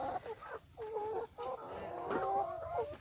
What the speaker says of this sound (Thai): อันนี้ที่ว่า ไก่บ่สบายเนาะ บ่สบายแล้วก็บ่แข็งแห้ง ทีนี้ก็เลยต้องแยกมาไว้บางนี้